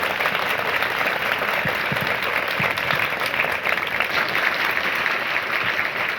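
A crowd gives loud, continuous applause to welcome guests onto the stage at a Hindi-language public event. The thick clapping holds steady from start to finish, with little talk over it.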